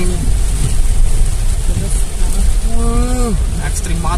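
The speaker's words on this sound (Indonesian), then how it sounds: "Hujan ekstrim, hujan terekstrim di Kabupaten Brebes ini." Extreme heavy rain pounds a moving car on a road in Brebes regency, a loud continuous roar with road and engine rumble beneath, and someone talks briefly over it near the end.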